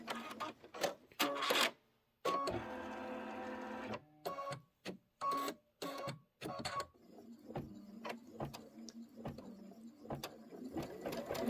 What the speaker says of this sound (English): But this is the placement stitch for our batting.